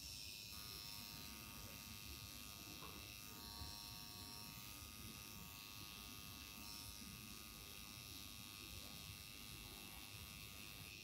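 A permanent eyeliner tattoo machine gives a steady, continuous high electric buzz at close range throughout, with a faint low background hum.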